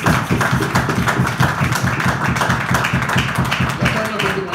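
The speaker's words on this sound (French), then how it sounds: "Applaudissez pour Dieu." Church congregation clapping in praise during a service, a steady rhythmic burst of many hands, loud and close, with voices mixed in beneath the beat.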